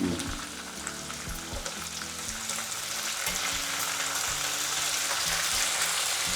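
Curry leaves and green chillies frying in a pan, a continuous crackling sizzle that grows slightly louder, with occasional stirring knocks and no talk.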